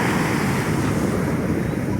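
Atlantic Ocean surf breaking on a beach at sunset in Cotonou, Benin, a continuous loud roar of waves with wind buffeting the microphone throughout.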